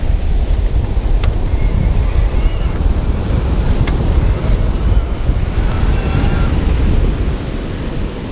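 Riding a Bulls Monster E FS electric mountain bike along a sandy beach: loud, continuous wind buffeting the microphone blends with the rush of surf, with faint chirps and clicks on top.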